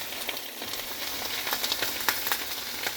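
Hickory smoked bacon seasoned with black pepper and paprika fries in a pan, a steady close sizzle with scattered sharp pops.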